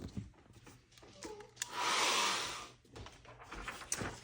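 A hair dryer blown over wet ink on an art journal page, switching on for about a second and a half of close, breathy whooshing amid quieter rustling and handling noises, with no talking.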